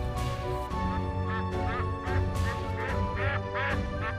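A flock of Peking ducks quacks repeatedly and loudly, overlapping nasal calls close by over a constant background din of many birds, with no talking.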